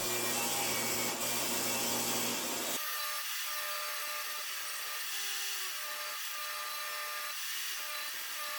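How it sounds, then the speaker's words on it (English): A table saw rips wooden boards to square their edges, a loud steady high whine of blade cutting through wood that drops to a lighter running hum as the cut ends, with no talking. "I'll rip them down to square up the edges and make sure they're all the same width"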